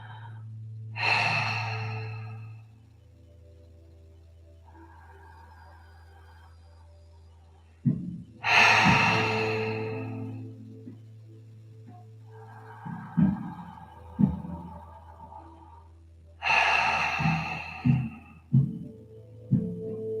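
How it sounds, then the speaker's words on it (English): Deep conscious connected breathing: three long, loud, close inhales spaced several seconds apart, each followed by quieter exhales and soft breaths, over a steady low background hum. "So breathing in."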